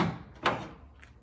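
A short mechanical click-clunk from a Quik-Latch hood latch button pressed down on a Nova, a single close, muffled snap against faint garage background.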